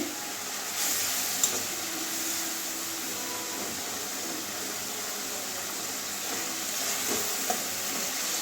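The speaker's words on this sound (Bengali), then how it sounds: "তেজপাতা চিরা দিয়ে দিচ্ছি" Bay leaf and chili dropped into hot oil for a Bengali malabar spinach curry with papaya and lentil dumplings, giving a steady soft sizzle and hiss throughout, with a couple of faint clicks from the pan.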